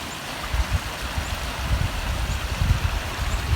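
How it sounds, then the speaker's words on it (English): A creek, back in its usual bed after a flood, gives off a steady broadband rush of flowing water with low, gusty rumbles underneath and no voices. "the water is back down in its usual creek bed down there"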